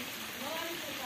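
Heavy rain falls on a Punjab village in Pakistan, a dense steady hiss filling the whole moment while someone speaks over it.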